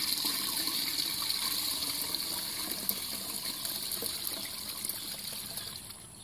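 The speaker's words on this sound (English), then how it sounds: "we're going to strain this wort through the strainer into these 3 gallons of water that I already have" Hot beer wort for a honey blonde ale poured through a hop strainer into three gallons of water, making a steady, close, continuous gushing trickle that runs alone for about six seconds before easing off slightly.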